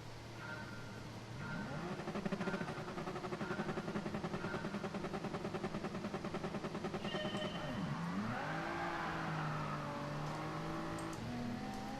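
A Toyota Supra launches from a race start in GT Sport, its engine note rising steadily through a long pull, dropping at a gear change and climbing again, with other cars audible around it.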